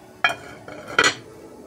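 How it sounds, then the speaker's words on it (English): A lid is set back onto a pot of homemade chicken noodle soup, giving two brief metallic clanks about three-quarters of a second apart, close and fairly loud, with no talking. "all I'm going to do is go ahead and put my lid back on"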